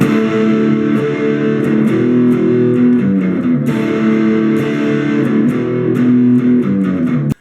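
A heavily distorted electric guitar chugs through the intro rhythm riff of a song in drop D tuning, thick sustained chords with steady pick attacks repeating throughout.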